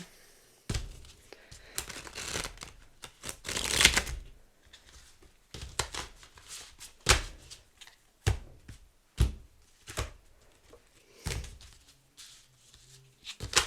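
Cards are cut and shuffled in a quiet room, giving a series of short, sharp riffling and tapping bursts separated by pauses, close and moderately loud.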